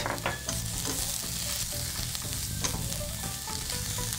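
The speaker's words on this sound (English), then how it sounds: "Stir fry the vegetables on medium heat." Garlic, bitter melon and carrot stir-frying in olive oil in a pan over medium heat, with a steady close sizzle and occasional scrapes and clatters of stirring.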